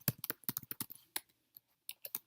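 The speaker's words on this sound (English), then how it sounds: "So in my subheader, I'm going to type the word science" Keys clack on a computer keyboard in quick, uneven bursts of taps, close and fairly quiet, with short pauses between groups of keystrokes and no talking.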